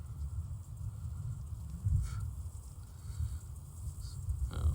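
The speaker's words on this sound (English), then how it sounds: "it is raining out there, which is kind of funny" Rain falling outdoors at a shooting range, a soft continuous low patter that stays faint and steady throughout with no speech over it.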